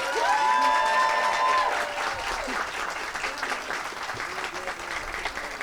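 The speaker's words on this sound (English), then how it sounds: "let's give all of our scholarship recipients a round of applause for this evening" An audience at a Martin Luther King Jr. scholarship awards ceremony applauds the scholarship recipients, a broad sustained wash of clapping with some crowd noise, loudest at first and then easing slightly as it continues.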